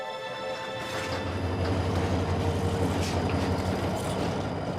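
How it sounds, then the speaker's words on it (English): A train runs along a railway track in Africa, giving a steady low rumble and clatter with a droning hum, heard close and continuous throughout. "And even this train and the track it rides on lie at the heart of my story."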